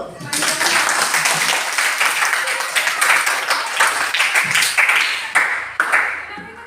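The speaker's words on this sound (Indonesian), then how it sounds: "Oke, tepuk tangan dulu." A classroom of students claps together, a dense steady round of applause that carries on for several seconds before a few final scattered claps.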